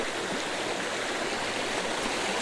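Water tumbles down a hillside near a hilltop hamlet in a steady, dense rush. The roar is close and even, with no pauses or voices over it.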